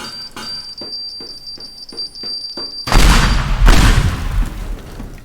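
C4 explosive detonates in a video game: a string of faint beeps and clicks, then a loud booming blast with a rumbling tail and a second burst, close and dominant.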